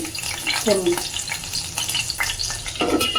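Boal fish head frying in hot oil, a loud close crackle with sharp splattering pops and spits, brief clatters as a lid or utensil is handled.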